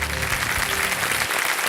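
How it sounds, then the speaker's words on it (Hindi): A studio audience on the Indian TV quiz show Kaun Banega Crorepati breaks into a short burst of loud, dense clapping that fades out near the end. "तालियां बज जाए इनके लिए।"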